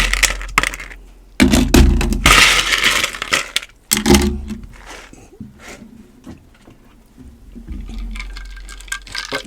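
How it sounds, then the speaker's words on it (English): Ice is dumped into a trash can cocktail bucket holding tequila and rum, making loud bursts of crunching, clattering cubes with short quieter pauses between the pours. "I'm going to top this off with a little bit more ice."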